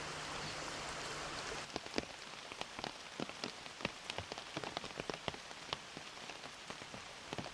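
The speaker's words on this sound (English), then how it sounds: "It's monsoon, and torrential rain poured down the parched earth" Heavy monsoon rain falls on forest in Manas, India, a dense steady hiss with a constant wash at first, then many distinct close drops and splats tapping irregularly through the rest, no voices.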